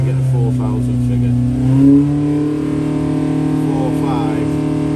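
A car engine held at wide open throttle on a rolling road, a steady loud droning hum with a slight rise in pitch partway through, running continuously.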